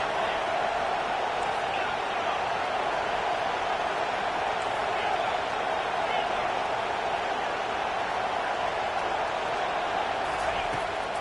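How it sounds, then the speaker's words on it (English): A College Football 25 stadium crowd roars in a steady, unbroken wall of cheering as the home defense tries for a red-zone stop, constant and loud throughout. "The crowd getting behind this defense as they try to get a stop in the red zone."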